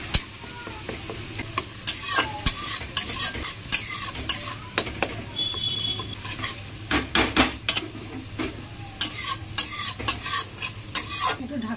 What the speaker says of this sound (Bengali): 10 মিনিট মতন মশলাটা কষিয়ে নেব।